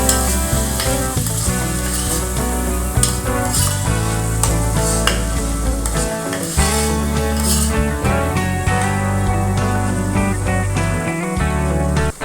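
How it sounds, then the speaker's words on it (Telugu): Onion pieces and green chilies fry in oil for a Godavari pond fish curry, a steady sizzle and stirring mixed under loud background music, with no talking. "ఉల్లిపాయ ముక్కలు, పచ్చిమిరపాయ ముక్కలు బాగా వేపేసుకోవాలి."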